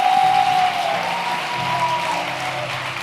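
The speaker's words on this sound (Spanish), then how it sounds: "Yo creo que Dios se merece un aplauso más grande que ese." Church congregation applauding during a sermon, a dense burst of clapping that starts loud and eases slightly while holding steady, with a faint tone sustained beneath.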